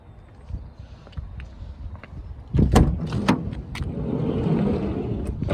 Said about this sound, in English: Now to the side on this one there is a electric ramp.